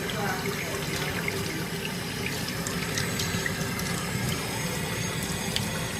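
Tap water runs steadily over freshly dyed red natural hair during rinsing in a sink, a constant close splashing hiss with faint rattling underneath.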